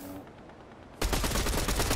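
Fortnite gunfire erupts abruptly after a quiet second, a loud rapid burst of shots crackling on with a dense, continuous rhythm.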